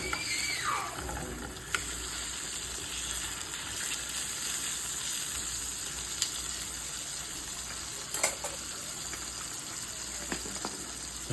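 A steak frying in a pan gives a steady, bright sizzle that runs throughout, with a few sharp crackles and pops along the way and no talking.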